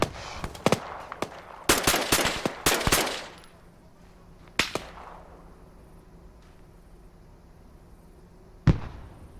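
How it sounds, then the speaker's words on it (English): A bomb strike in the Arma 3 video game, heard as a cluster of sharp, loud blasts and cracks early on, then a quieter stretch broken by a couple of single bangs, one near the end. "I'm gonna fire that JDAM"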